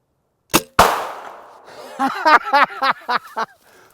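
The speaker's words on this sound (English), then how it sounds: "it exploded with enough force to blow pieces of plastic at least 30 feet into the trees above me" A mini crossbow fires an exploding 357 Magnum arrowhead into a hard car windshield, giving two sharp cracks followed by a ringing, decaying blast, then excited voices reacting close by.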